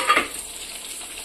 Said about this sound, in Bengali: যাতে পেঁয়াজটা লাল লাল করে ভাজা হয় এরকম একটুক্ষণ নাড়তে হবে